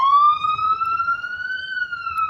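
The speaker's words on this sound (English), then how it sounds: "Y'all hear them sirens?" A single siren tone slowly rising and falling on a New York City street, clear and steady for a couple of seconds over faint low background noise.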